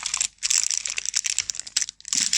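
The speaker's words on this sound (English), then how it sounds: "Gold foil or plastic foil, and it kind of rips open." Gold foil or plastic foil wrapping on a Ferrero Rocher white chocolate bar being ripped open, giving close, loud crinkling and tearing bursts in several quick bouts with brief pauses.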